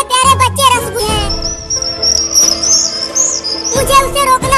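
Birds chirp near a nest in a tree, steady high tweeting running for most of the moment over a low musical bed, with brief voice-like sounds at the start and end.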